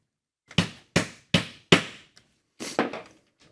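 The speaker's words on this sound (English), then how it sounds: "I got the mallet out while you were away, and the fit of these tight dominoes is very nice." A mallet knocks a tight domino joint together with four sharp, evenly spaced taps close by, a tiny tick, then two quicker knocks, with silence between.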